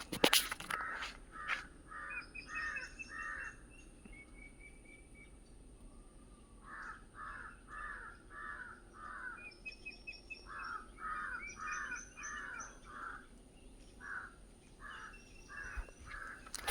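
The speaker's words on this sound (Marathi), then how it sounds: "आवाज पक्ष्यांचा आवाज फक्त शांत एकदम" Crows caw repeatedly in bursts of several calls, moderately distant, with faint smaller bird chirps in a quiet outdoor setting and no talking.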